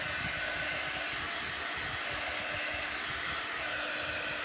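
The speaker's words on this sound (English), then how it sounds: "This heat tool is just like a regular heat gun, and actually it's called a quick dry tool because it's not a real hot tool." A quick-dry heat tool, a mild heat gun used to dry crafting surfaces before transfers, blows air with a constant loud whooshing hiss close up, with no talking over it.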